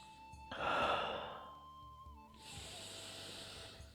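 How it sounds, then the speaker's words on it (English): Slow, deep breathing during a stretching and energy exercise routine, a long breathy inhale followed by a steady exhale, close and soft with no speech. "Inhale and exhale."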